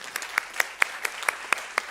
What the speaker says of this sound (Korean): 서로에게 한번 박수 쳐줍시다.